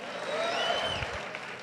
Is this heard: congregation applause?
yes